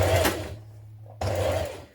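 A sewing machine runs in two short bursts while stitching in the ditch along a dress shoulder seam to hold the facing flat, humming steadily for about half a second, pausing, then running again and slowing to a stop.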